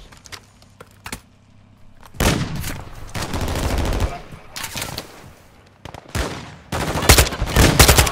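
Gunfire in Call of Duty: Modern Warfare II, with single shots at first and then loud sustained bursts of automatic fire and explosions. The bursts come in waves, and a player talks between them.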